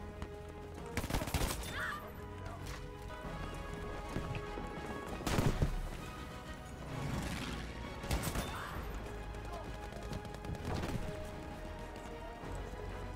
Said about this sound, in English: the shotgun sure is overpowered.